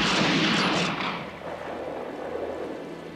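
A loud gunshot or burst of gunfire opens a western TV film scene, with its echo and rumble trailing off over about a second, leaving a low background murmur.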